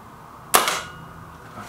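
Single sharp air rifle shot from an MP500 in a target shooting competition, a loud close crack that decays quickly, heard alone without voices.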